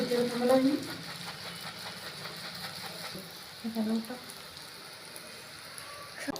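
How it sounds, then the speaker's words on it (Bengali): Bengali pitha made from flour dough, dipped in a mould and dropped into hot oil, fries with a steady, even crackling sizzle that runs throughout, while a voice talks briefly over it at two points. "কুকারের মধ্যে ডুবিয়ে গরম তেলে ছেড়ে দিল"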